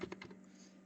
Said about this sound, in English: Then type here in this library card